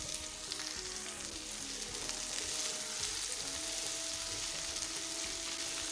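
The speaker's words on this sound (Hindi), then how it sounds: "ताकि साथ हमारी भिंडी भी फ्राई हो जाए।" Okra frying in a pan with egg for bhindi egg fry, a steady close sizzle running throughout with faint stirring scrapes and no talk.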